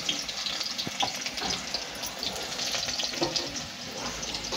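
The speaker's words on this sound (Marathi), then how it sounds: "तेल आपलं गरम झालेलं आहे। आता आपण लसूण असे फोडणीसाठी टाकून घेऊया।" Garlic hits hot oil for tempering okra bhaji, giving a steady close crackle and sizzle mixed with a watery hiss, moderately quiet and without voices.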